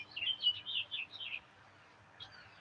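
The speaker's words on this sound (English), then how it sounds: "All the birds and shit out here." Birds chirping outdoors in a quick, close run of bright tweets, falling silent before one faint call at the end.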